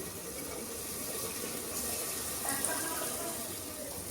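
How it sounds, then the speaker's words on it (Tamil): A steady stream of tamarind water pours and splashes into a pan, a continuous wash of watery noise with no talking. "இந்த புளி தண்ணியை சேர்த்துருவேன்"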